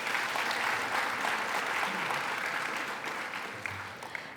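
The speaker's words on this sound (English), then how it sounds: "Please give them another round of applause." Audience applause for two Bharatanatyam dancers after their performance at a recital, a dense steady wash of many hands clapping that fades slightly toward the end.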